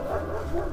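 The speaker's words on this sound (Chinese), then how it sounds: "隔壁有个狗狗" A dog next door to a house in the Katy area of Houston gives a brief, low woof-like vocalization, moderately distant and heard alone over a soft outdoor background.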